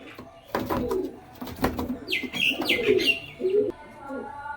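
An adult pair of red pigeons coo repeatedly in soft, throaty phrases, close by, with some chirps and rustling in between.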